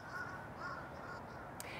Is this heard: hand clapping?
no